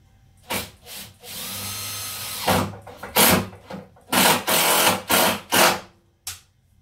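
A power drill drives screws to mount an oscillating spindle sander in a workshop, with a series of short, close whirring bursts of varying length and pauses between them.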